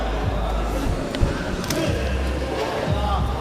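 An arena crowd at the World Boxing Cup Finals in Sheffield applauds and murmurs after a gold-medal bout. The steady crowd noise runs throughout beneath a commentator's speech, with a few scattered thuds.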